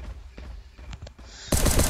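Gunfire bursts in the video game Last Day on Earth during a raid, a short, sharp, loud burst of rapid shots cutting in suddenly after quieter clicks and faint background sounds.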